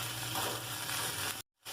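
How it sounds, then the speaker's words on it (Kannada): Shredded cabbage fries in hot oil for an avalakki dish, giving a dense, steady sizzle close by that cuts off abruptly near the end. "ಸ್ವಲ್ಪ ಅಗ್ರಿ ಒಂದು 2 ನಿಮಿಷ ಹುರ್ಕೊಂಡ್ರೆ ಸಾಕಾಗ್ತದೆ ಎಣ್ಣೆ ಒಳಗೆ"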